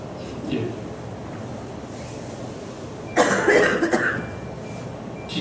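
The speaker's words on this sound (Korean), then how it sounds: "기침을 한다 싶으면" A single burst of coughing erupts after a stretch of quiet room noise during a church service, fairly close and brief.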